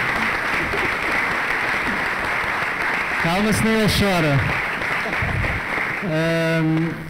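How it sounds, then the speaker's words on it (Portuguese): A film-festival audience at a LEFFEST'22 talk for Nação Valente applauds João Mourinho. The clapping is loud and dense at first, then thins as voices speak over it. "Uma salva de palmas ao João Mourinho."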